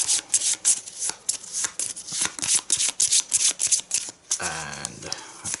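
A deck of game cards for a Gloom of Kilforth tabletop session is shuffled by hand in a steady run of quick riffling rasps, up close and fairly loud, ending in a brief flurry of handling.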